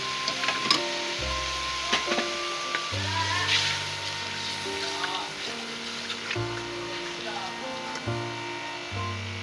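Tomato paste going into a hot pan of frying masala for a potato and pea curry, with a steady low sizzle and some stirring under background music.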